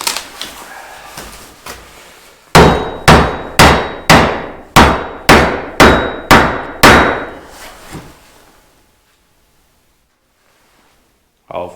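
A run of about nine loud, evenly spaced hammer blows ringing on metal while forging a garden hoe, close by, after some quieter clatter, then near silence.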